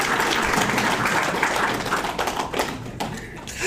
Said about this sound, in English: However, I would like to take this moment to give a round of applause to Drew for the cute dots when loading.